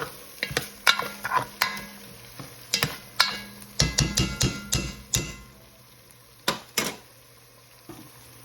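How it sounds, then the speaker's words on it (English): Butter melting in a pan for a fish stew is stirred with a utensil, giving repeated scraping and clinking strokes against the metal over a soft background sizzle, in irregular bursts with short pauses. "So we're gonna stir this up."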